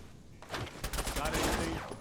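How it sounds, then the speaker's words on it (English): Gunfire from a Fallout 4 firefight, a dense burst of rapid shots with a loud, noisy crackle that starts about halfway through and keeps going. It stays close and heavy, with voices mixed into the chaos. "Opening fire."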